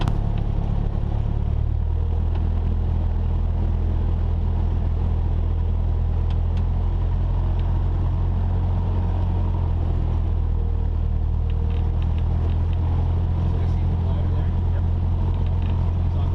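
A small training aircraft's engine rumbles loudly and steadily while taxiing, settling into a lower, even drone after the first couple of seconds, heard from inside the cabin.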